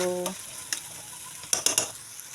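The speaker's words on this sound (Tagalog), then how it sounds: "Para medyo ma-fried siya." Sopas ingredients sizzle and fry in a pot while being stirred for breakfast, with a steady close sizzle and a few sharp scraping clicks of the spoon against the pot.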